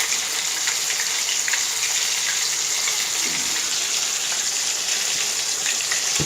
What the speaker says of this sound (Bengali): খুন্তি দিয়ে হালকা করে এভাবে নেড়ে নেড়ে তেলের মধ্যে এগুলোকে উল্টিয়ে নিতে হবে।